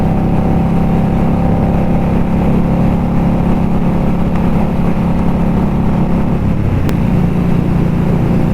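Continuous close exhaust drone from an Indian Scout motorcycle at riding speed, steady low rumble with wind roar and a single brief click near the end.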